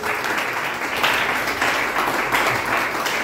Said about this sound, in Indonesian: Atau beri tepuk tangan bagi Tuhan.